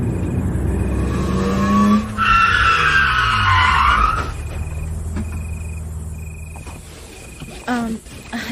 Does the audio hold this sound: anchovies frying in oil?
no